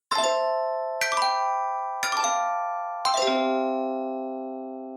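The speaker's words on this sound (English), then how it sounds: "let us slide into a chime" Four bright chime strikes, evenly spaced about a second apart, each ringing with clear bell-like tones that decay slowly, the last one sustaining longest, heard alone and close.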